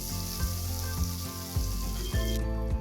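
Onion and curry leaves sautéing in hot oil, a loud continuous sizzle with a few stirring scrapes and a steady tonal hum underneath, heard close with no talking.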